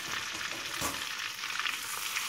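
Melted butter with ground red pepper and black pepper crackles in a pan, a continuous bright sizzle with soft stirring swishes, close and steady with nobody speaking.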